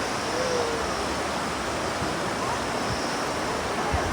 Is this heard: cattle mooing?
no